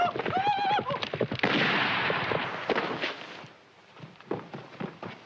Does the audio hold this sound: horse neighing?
yes